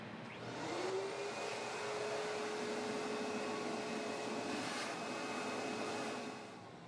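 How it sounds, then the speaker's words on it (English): A vacuum cleaner sucks debris out of a removed hopper, a steady close whooshing hum that starts up, holds for about six seconds, then winds down. "Now you can remove the hopper, vacuum out any debris that is in the hopper"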